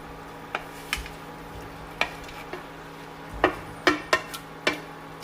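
A utensil stirs fried fish in a pan, with scattered scrapes and sharp clinks against the metal, close and fairly quiet, no voices.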